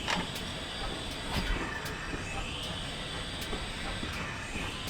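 A Saint Class steam train crossing a bridge on the Severn Valley Railway, a steady broad rumble and hiss with faint rhythmic clicks of wheels over rail joints, heard from some distance without talk.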